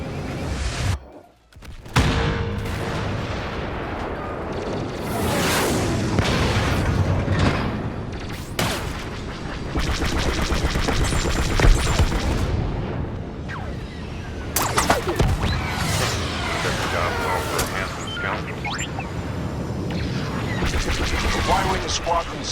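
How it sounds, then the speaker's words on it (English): Explosions from a Y-wing bomber squadron's bombing run over Fondor in Star Wars Battlefront II, heavy booms and blasts mixed with gunfire and whooshing craft, loud and continuous across a dense battle soundscape with voices under it. "The Y-wing squadron successfully completed its bombing run."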